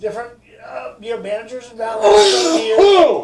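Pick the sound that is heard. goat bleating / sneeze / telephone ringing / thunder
sneeze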